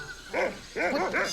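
A dog in the adventure game Monkey Island 2 barks three times in quick succession, short bright yaps close up and alone.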